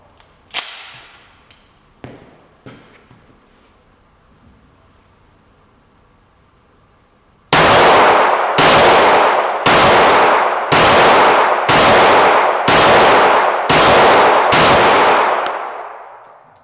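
A series of eight loud gunshots fired with 200-grain jacketed round-nose bullets at a range, each blast sharp and evenly spaced about a second apart, preceded by a few fainter clicks and knocks.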